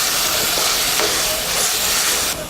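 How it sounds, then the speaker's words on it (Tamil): Ground masala frying in a pan for beetroot biryani gives a steady loud sizzle and hiss, with faint stirring scrapes, close up and without speech. "இந்த மசாலா நல்லா வதங்கட்டும்."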